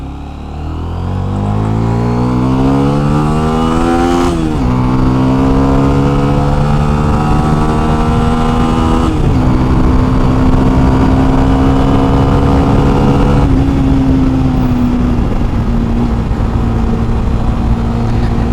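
Motorcycle engine pulling hard while riding in gear, a loud, close drone that rises steadily in pitch through each gear, with brief dips at the shifts before climbing again.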